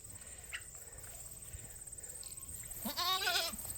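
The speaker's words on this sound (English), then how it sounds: "All the goats are out here." A goat bleats once near the end, wavering and fairly close, against faint outdoor background noise.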